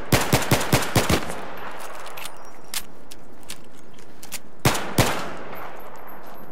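Gunfire in the video game Battlefield 3, aimed at the floor: a fast burst of about six sharp shots opens, then a lone faint shot and two loud shots near the end, with quiet gaps in between.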